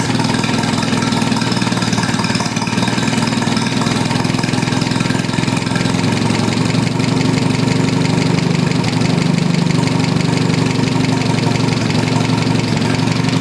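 An old, rusty engine runs steadily after an ignition advance adjustment, with the choke off. It gives a continuous, even, loud mid-pitched idle throughout, with no voices.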